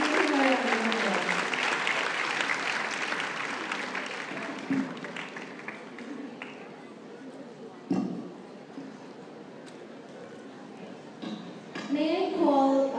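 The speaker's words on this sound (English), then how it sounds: "Can you please give him a round of applause?" An audience applauds for Martin Fausto at an investment seminar, strong clapping at first that thins and fades, then swells again briefly near the end.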